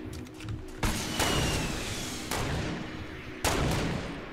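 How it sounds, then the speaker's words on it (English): A slow-moving rocket fired in Fortnite, heard as a loud, sustained whooshing roar with several sharp bursts and thuds, close and continuous across the short stretch. "That's a slow moving rocket."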